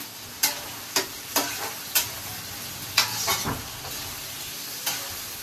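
Chilli chicken sizzles in a hot pan as ginger and garlic go in, with a constant frying hiss punctuated by regular sharp spatula scrapes and clanks, close by and without speech.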